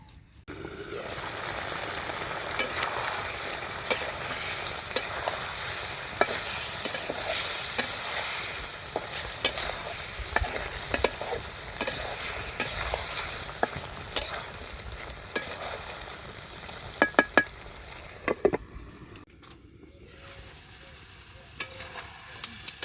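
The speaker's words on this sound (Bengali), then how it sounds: "মাংসটা আমি খুব ভালোভাবে কষে নিয়েছি" Meat stir-fried in a pan in a village kitchen, with a continuous loud sizzle and frying crackle and repeated scraping stirs and clanks, thinning out near the end; no talking.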